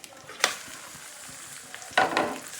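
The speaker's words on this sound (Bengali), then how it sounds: "এগুলোকে কয়েক সেকেন্ড ভেজে নেব" Ginger, garlic and onion paste frying in hot oil for a whole chicken curry, with a steady soft sizzle broken by two louder bursts of stirring, close by and with no talk.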